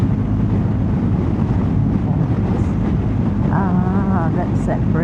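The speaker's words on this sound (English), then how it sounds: "very, very windy day today." Strong wind buffets the microphone during a two-up ride on a BMW R1250GSA motorcycle on a very windy day, a loud continuous low roar with a voice briefly heard under it.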